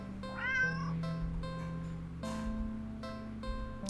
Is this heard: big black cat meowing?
yes